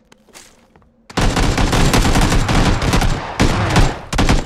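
Loud, close bursts of rapid gunfire in the battle royale shooter PUBG, dense automatic volleys following a brief quiet lead-in, with short gaps between strings of shots.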